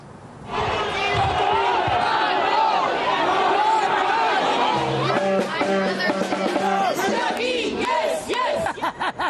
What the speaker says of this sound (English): the loud chanting of demonstrators